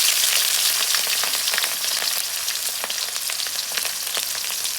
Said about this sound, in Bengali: এখন পেঁয়াজ দিয়ে দেব।